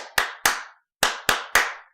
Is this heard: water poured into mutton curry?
no